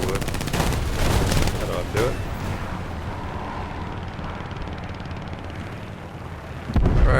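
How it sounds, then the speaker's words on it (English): Rapid machine-gun fire from a Hawk III aircraft in War Thunder rattles loudly for several seconds over engine drone, then stops briefly before another burst; someone speaks over it. "The fire rate's good, but these guns do seem to jam much quicker than I thought they would."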